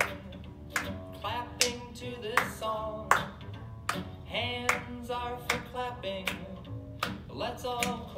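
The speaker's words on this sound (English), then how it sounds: "Hands are for clapping." Hands clapping along to a children's song at a storytime, sharp claps in a steady beat over cheerful music with singing.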